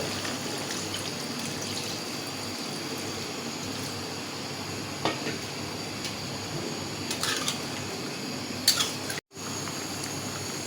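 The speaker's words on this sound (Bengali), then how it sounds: "আমি এখন ঝোলের পানি দিয়ে দেব" Water pours into a bottle gourd and koi fish curry to make broth, a quiet, steady trickling with a few small clinks and a brief cut near the end.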